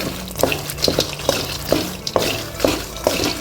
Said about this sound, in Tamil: நல்லா பொறுக்குன்னு ஒவ்வொன்று அரை விடு நல்லா வறுத்துக்கலாம்